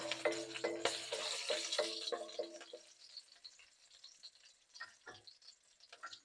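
Two green chillies fry in a pan with a crackling sizzle and some tonal ringing that fades after a few seconds into faint scattered pops and ticks, close by and with no talk.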